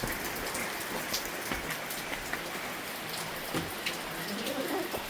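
Steady rain falls and patters on surfaces nearby, a dense continuous hiss with scattered louder drops throughout.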